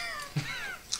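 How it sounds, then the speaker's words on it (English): A cat in a video game lets out a short, quavering meow-like cry, followed by a brief thump and a high blip, fairly quiet and without talk. "We have to take out this cat."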